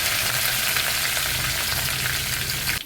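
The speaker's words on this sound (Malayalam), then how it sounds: "അപ്പോൾ എണ്ണ ഒഴിച്ച് കടുകിട്ട് കരിവേപ്പില ഇട്ട്" Mustard seeds and curry leaves sizzle loudly in hot oil, a dense continuous crackling hiss close up for about three seconds with no voices.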